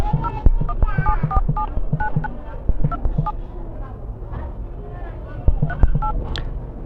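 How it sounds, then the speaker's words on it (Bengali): Keypad tones from a mobile phone while a code is dialed, a series of short beeps in an uneven rhythm under someone speaking. "ডায়াল প্যাডের মধ্যে এসে ডায়াল করবেন **62**"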